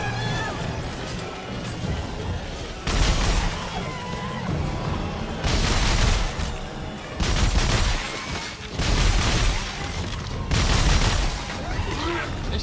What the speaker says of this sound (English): Shooting everything but the thing I need to shoot.